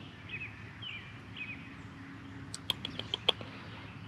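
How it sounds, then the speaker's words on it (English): Black-throated sparrow chirps in a short series of thin, high, bright notes, a few faint calls early then a cluster of sharper chips toward the end, over a low background hum outdoors on a Midwest road trip campsite. "I believe that's what they call a black-throated sparrow."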